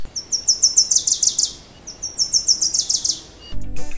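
Birds sing at an observatory inside the Ipala volcano crater in Guatemala: two rapid, high chirping phrases, each a quick run of repeated notes. The phrases are close and clear, followed by a brief rustle at the end.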